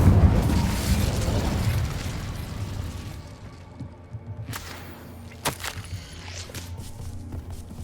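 Incendio fire spell cast in Hogwarts Legacy, a loud whooshing blast of flame that fades over a few seconds, followed by several sharp crackling pops and snaps.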